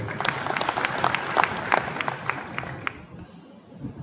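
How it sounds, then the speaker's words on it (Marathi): A crowd applauds the Jayanti festival committee at a Mahatma Basaveshwar Jayanti celebration in Loha, a dense burst of many hands clapping that tapers off toward the end, with faint crowd murmur. "आणि पुन्हा एकदा जयंती उत्सव समितीसाठी टाळ्या वाजवा"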